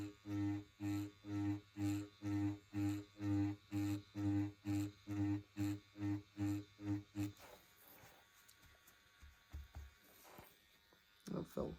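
A Bronc V1 wireless tattoo pen machine set to 7 volts buzzes loudly and close in a steady series of regular pulses for about seven seconds, then stops, leaving quiet room noise and a few faint movements.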